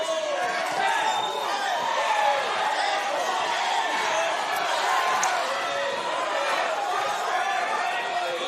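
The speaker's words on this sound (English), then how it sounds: "Crowd still so loud here, trying to bring these fighters home." Boxing event crowd roars continuously in a large arena as the final round closes, a loud dense wall of cheering and chatter with a commentator talking over it.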